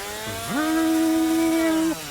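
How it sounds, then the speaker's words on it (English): A chainsaw blade built into a sci-fi sword switches on: a low sputter, then a quick rising rev into a steady, loud mechanical whine that holds for about a second and a half before cutting off. "he flicks a switch on it as a free action, activating the chainsaw blade"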